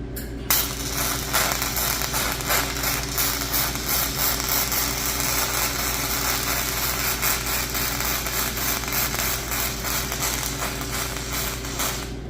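An arc welder runs continuously, welding on a broken bolt in an old flathead engine, with a steady close crackling sizzle over a low electrical hum and no break in the sound.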